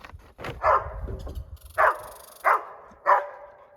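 Dog barking at a squirrel, four sharp close barks spaced about a second apart, with scuffling noises before them and no talk.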